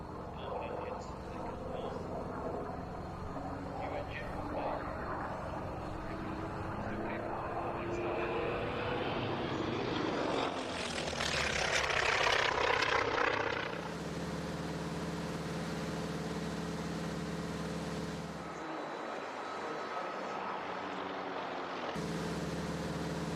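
A T-28 Trojan's piston engine heard from inside the cockpit: a steady, loud drone that swells in pitch and power midway, then settles to an even roar, with brief dips and voices over the engine.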